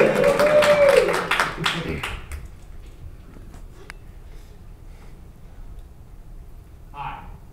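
Audience clapping at a presentation, a dense round of applause that fades out after about two seconds, leaving quiet room tone with a brief voice near the end.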